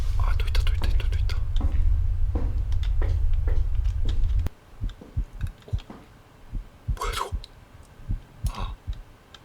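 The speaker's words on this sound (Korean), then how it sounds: "심장 소리가 갑자기 커지거든" Heartbeat effect in the horror game Wrong Floor, set in an elevator: a loud low throbbing pulse for the first half, then softer separate thumps, with whispering and clicks in the background.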